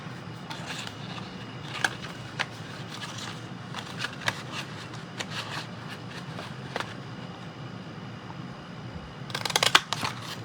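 Scissors snip through a paper treat box cupholder caddy in a run of short, crisp cuts with light paper rustling, close and fairly quiet, finishing in a quick flurry of snips.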